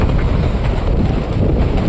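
Strong wind buffeting a boat at sea during a storm with rain, a loud roaring gusty rush battering the microphone, continuous and close with no speech.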